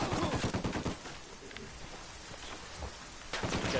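Rapid gunfire bursts in the tactical shooter game Ghost Recon, with a cluster of sharp shots at the start, sparse pops in the middle and another volley at the end.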